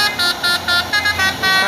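A Hino truck's basuri tolelet musical horn sounds loudly nearby in a series of rapid, repeated tooting bursts with short gaps between them.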